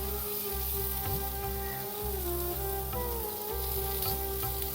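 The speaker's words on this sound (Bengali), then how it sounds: "সবটা আলুকে আমি প্যানটা জুড়ে পাতিয়ে দিচ্ছি যাতে দুটো পিঠেই একটু" Sweet potato pieces spread across a pan to toast on both sides, sizzling steadily and fairly close, with a continuous frying crackle under a low hum and no talk.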